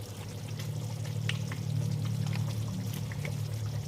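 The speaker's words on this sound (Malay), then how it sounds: "masukkan air ke dalam sambal kacang ni secukupnya" Water poured into homemade peanut sauce for tahu sumbat with sambal pecal, a steady close trickle and splash over a low continuous hum with faint clinks, no talking.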